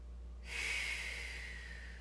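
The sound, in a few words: deep breathing during yoga practice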